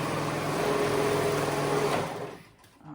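A sewing machine runs steadily as it stitches a jacket's liner and outer together, with a close, even mechanical whir for about two seconds before it winds down and stops.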